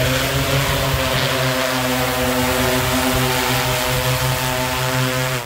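An agricultural spraying drone flies over a farm field in Jaffna, giving off a steady, loud, tonal propeller buzz with stacked hum tones that hold for several seconds before trailing off at the end.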